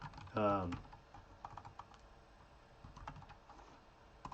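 A domain name is typed on a computer keyboard in soft, scattered clicks and short bursts of keystrokes, quiet and close, after a brief voice at the start.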